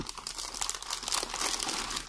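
Plastic bag wrapping a DX Gashacon Magnum toy gun crinkles and crunches steadily as it is handled up close, with no speech.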